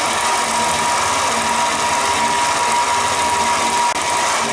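A computerized quilting machine stitches an edge-to-edge design across a quilt, giving off a loud, steady mechanical whir and ratcheting hum that runs without a break.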